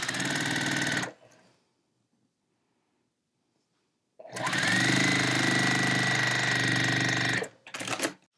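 A sewing machine stitches quilt fabric in two loud, steady bursts of fast mechanical whirring, the first about a second long and the second about three seconds, separated by near silence, with a short final run.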